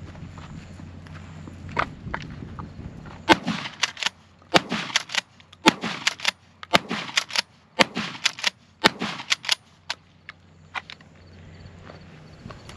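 A Mossberg Maverick 88 Cruiser pump shotgun fires outdoors in a run of about eight sharp, loud reports, evenly spaced at roughly one per second, with the pump action working between blasts.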